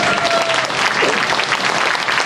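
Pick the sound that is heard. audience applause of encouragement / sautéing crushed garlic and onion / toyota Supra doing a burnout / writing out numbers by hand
audience applause of encouragement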